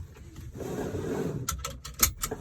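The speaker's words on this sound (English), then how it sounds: "Latch, unlatch, latch again." A truck cab seatbelt is pulled out and then latched, a sliding rub of webbing followed by several sharp metallic clicks close to the mic, with no talking.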